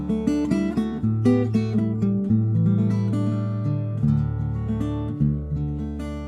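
Acoustic guitar amplified through a pickup with a microphone added, playing sustained chords and bass notes with picked melody on top, a full, close, steady sound with no talking.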